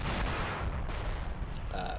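Incoming mortar barrage in Combat Mission Black Sea: a steady roar of distant explosions and gunfire rumbling underneath, with a brief higher tonal sound near the end.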